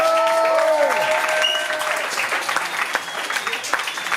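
An audience at a slam poetry night applauds and cheers loudly, a dense clatter of clapping with a few whoops at the start that slowly thins out toward the end.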